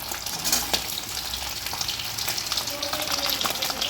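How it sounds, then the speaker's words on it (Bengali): Hilsa fish pieces frying in hot oil, with a dense, bright, crackling sizzle and spitting pops running continuously, close up with no talk. "দেখেছো কেমন ফুটছে মাছটা ধুমধাম করে ফুটছে"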